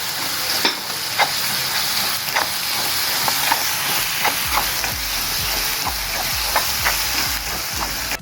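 Ground spice paste for a brinjal pickle fries in a wok-style pan, sizzling loudly and steadily while a spoon stirs and taps against the pan at a regular beat, with no talking.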